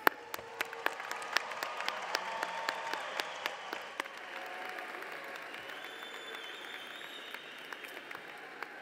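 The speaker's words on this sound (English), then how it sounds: "Please, one more big round of applause for all of our graduates here today." Applause for graduates at a College of Education and Health Professions commencement, heard distant and faint: a thin patter of separate claps over a hushed hall, tapering off, with a soft tonal hum lingering underneath.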